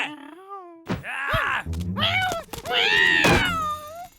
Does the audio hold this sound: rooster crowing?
no